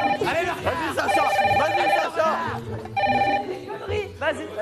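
A red telephone ringing in repeated bursts of an electronic ringtone, loud and close, mixed with overlapping talk from several people.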